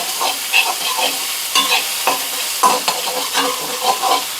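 Onion with ginger garlic paste sautés in a pan, a close bright sizzle broken by repeated scraping and stirring strokes of a spatula against the metal, steady and fairly loud with no voices.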